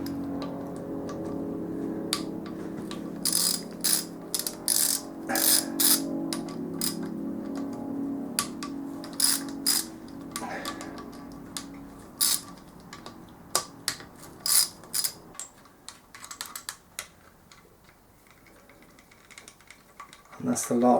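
Ratchet clicks in short, irregular bursts while undoing the cam cover bolts on a BMW F650GS motorcycle engine during a top-end strip-down, close and crisp, with low background hum.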